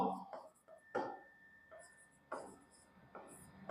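A maths expression being written by hand, soft scratchy pen or chalk strokes in short bursts, close and faint, interleaved with a person speaking.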